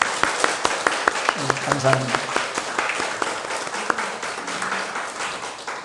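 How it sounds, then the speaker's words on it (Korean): A church congregation gives a short round of congratulatory applause, with distinct, fairly close claps that thin out toward the end while a voice speaks briefly over them. "우리 축하 박수 드릴까요?"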